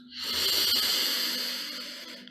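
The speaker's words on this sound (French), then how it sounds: "Prenez une immense respiration jusqu'à ce que le nombril se rentre" One long, breathy inhale taken during a guided meditation, a close airy hiss that swells quickly and fades slowly over about two seconds, with no talking.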